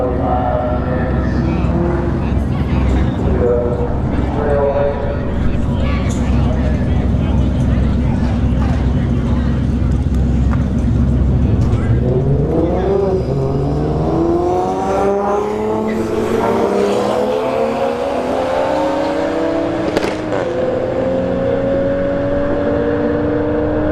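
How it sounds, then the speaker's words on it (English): Nissan GTR and Toyota E90 Supra drag racing at Bradenton Motorsports Park street heat test and tune, engines revving and accelerating hard with rising pitch sweeps, under continuous commentary from a nearby voice. "GTR in the right lane, E90 Supra on the left"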